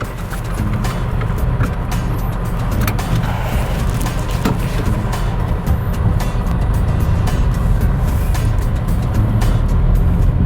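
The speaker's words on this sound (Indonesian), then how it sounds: "Anda bisa langsung merasakan bahwa ini adalah mesin 3 silinder." Datsun Go Panca small car with a three-cylinder engine driving on the road, a steady low engine drone and road rumble held at an even level from the cabin throughout.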